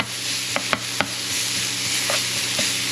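Garlic sizzles steadily in a hot frying pan for a Vietnamese steamed rice roll filling, with a few sharp scrapes and clacks as it is stirred around, close and alone without talk.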